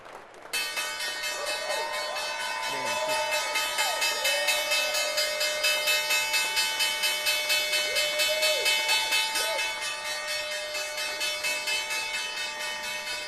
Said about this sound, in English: But first, we're going to bring in the closing bell.